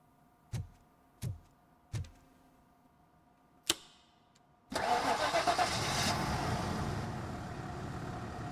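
Car engine starting in the video game RoboCop: Rogue City: a few sharp cranking clicks, then the engine catches with a loud sustained roar settling into a steady idle.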